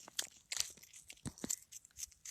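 A wildlife ambassador animal crunches food up close, with sharp crisp bites and chewing crackles in an uneven rhythm, faint but clear and with no voices over it.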